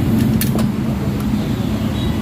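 Freshly overhauled Suzuki Multicab engine idling with exhaust running, a close, steady low rumble and throb filling the whole stretch.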